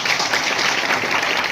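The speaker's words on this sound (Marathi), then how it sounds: "यांच्या सगळ्यांसाठी एकदा टाळ्या होत्या।" An audience at a felicitation ceremony for students who succeeded in Maharashtra Police and competitive exams claps together, a brief burst of dense, even applause close by with no voices.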